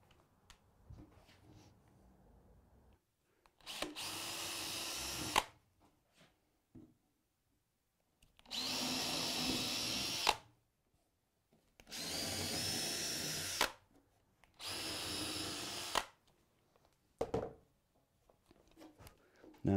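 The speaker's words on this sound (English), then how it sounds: "I'm just going to go ahead and drill some screw holes" A power drill bores screw holes into a clamped wooden workbench top in four separate bursts of about two seconds each, close and loud, with quiet gaps and small handling clicks between.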